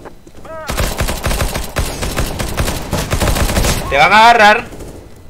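Dense gunfire from a CS:GO match while a bomb is being planted, rapid overlapping shots and bursts filling the scene, with a voice talking over it and a sweeping tonal effect near the end.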